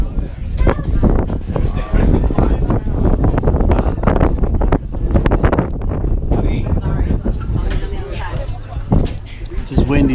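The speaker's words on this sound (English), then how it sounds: "It's as windy as anything here, but I'm trying to keep my finger over the audio so you don't hear the wind." Gusty wind buffets a handheld microphone outdoors at the Freedom Airshow in Worcester, Massachusetts, a loud continuous rumble throughout, partly muffled by a finger over the mic, with people talking over it.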